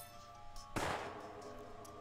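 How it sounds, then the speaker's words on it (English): A single sharp gunshot in the Death End re;Quest video game cracks out once over a quiet, steady background and decays slowly. "A gunshot?"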